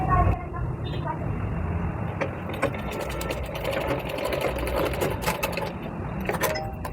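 A sewing machine stitches a strip onto a one-tuck blouse, running in a steady continuous whir with a busy mechanical texture throughout, fairly loud and close.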